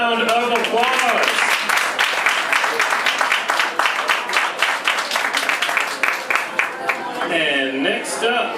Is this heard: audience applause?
yes